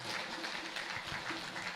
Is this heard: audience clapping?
yes